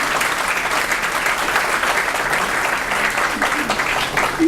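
An audience at a book presentation applauds warmly, a loud, even roar of many hands that holds steady throughout with no talk over it.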